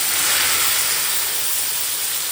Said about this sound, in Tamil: இப்போ நம்ம இந்த சாம்பாரை வந்து இதில் கொட்டிடலாம்